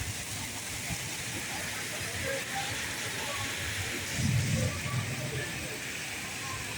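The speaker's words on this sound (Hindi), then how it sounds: "रात से बारिश हो रही है" Rain and hail falling on a road in Lahore, a steady dense hiss of patter throughout with a brief louder rumble near the end, and faint voices in the background.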